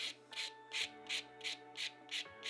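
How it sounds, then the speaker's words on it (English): A nail file bevels a structured gel nail down toward the tip during a manicure, giving eight steady back-and-forth rasping strokes in even rhythm, very close and dry. "our 5th step in filing, flip the nail around from the client's angle and bevel down towards the tip"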